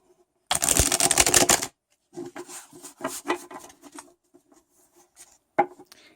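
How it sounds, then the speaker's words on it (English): A dense burst of rapid fluttering clicks as tarot cards are riffle shuffled, then scattered softer taps and slides as the cards settle, close up and otherwise quiet. "you can also easily rifle shuffle them"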